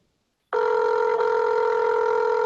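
A telephone ringback tone on an outgoing call begins abruptly after half a second of silence and holds as a steady, loud electronic tone to the end, with no voices over it.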